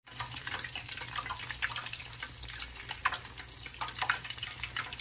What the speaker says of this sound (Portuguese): Aqui na panela é só ir virando com óleo.